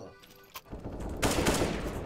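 Gunfire in the video game CS:GO: a single sharp shot near the start, then a loud, dense rattle of automatic fire from about halfway on, with no voices during it.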